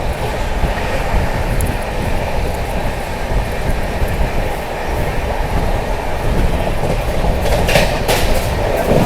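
The Kalinga Utkal Express, 18477, runs from Puri to Rishikesh. A loud, steady rumble of wheels on rails fills the clip, with rhythmic clatter and wind roar as if heard from inside or beside the moving train.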